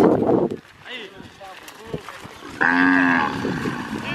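Cattle on a Pantanal ranch in Brazil: a short low call, then a long, loud moo close by, with livestock sounds and people talking around it.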